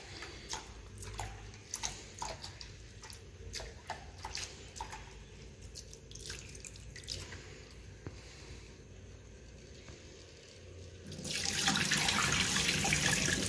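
Picked-over lentils are rinsed with filtered water in a kitchen: light clinks and trickling come first, then water gushes loudly and steadily into the vessel for the last couple of seconds.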